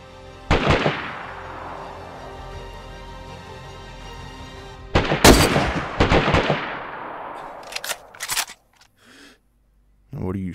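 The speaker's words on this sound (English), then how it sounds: "What are you shooting at, man?" Gunshots in the video game DayZ: a few sharp, loud reports with decaying tails, with a dense cluster midway and scattered shots after, then a quieter stretch near the end.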